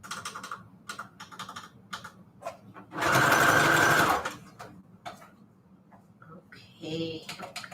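A sewing machine runs a straight stitch on its longest setting, sewing fabric onto manila tags in a loud, steady one-second whir amid lighter clicking and handling noises, with a person speaking nearby.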